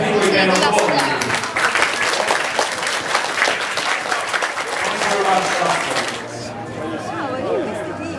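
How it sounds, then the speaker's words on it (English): Audience applause after a demonstration of cleaning robots, loud and close, with voices and chatter mixed in; the clapping thins out toward the end while talk continues. "I think we can applaud you"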